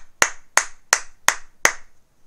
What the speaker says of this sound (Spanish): Aplausos y más aplausos y más aplausos.